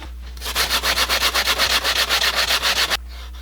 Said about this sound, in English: let's see how easy it is to sand this stuff off